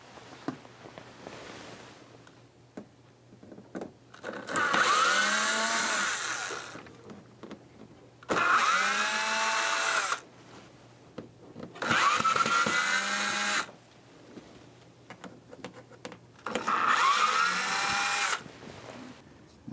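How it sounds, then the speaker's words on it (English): A power screwdriver backs out the screws holding the power plate during a tractor roof-mount stereo install. Four loud, whining bursts of one to two seconds each are separated by quiet pauses. "unscrew the 6 screws that hold the power plate into place"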